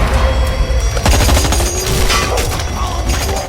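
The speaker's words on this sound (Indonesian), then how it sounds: "muncullah Oto yang menembak mereka secara membabi buta" Dense, chaotic gunfire as a character shoots wildly at a yakuza gang, loud continuous bursts and booms layered over a roaring low rumble, with no clear gaps between shots.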